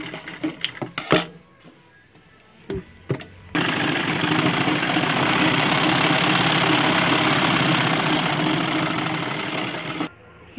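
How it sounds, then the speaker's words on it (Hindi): A sewing machine double-stitching a dhoti shalwar, a loud, steady, buzzing run of stitching lasting several seconds after some handling clicks and bumps. "इसको भी हम डबल सिलाई ले लेंगे।"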